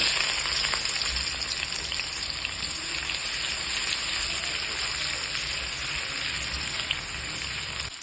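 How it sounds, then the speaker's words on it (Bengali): Onions fry with black cumin in hot oil left over from frying fish, over a high gas flame, giving a steady, close, dense sizzling hiss that continues unbroken. "পেঁয়াজগুলোকে লাল করে ভেজে নিতে হবে"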